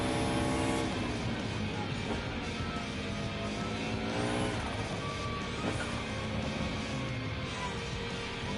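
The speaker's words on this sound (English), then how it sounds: "Now this one's got the turbo. This is a turbo car. You'll hear it." A turbocharged car engine drones steadily with rising and falling pitch sweeps, loud and continuous, like a racing game engine under acceleration.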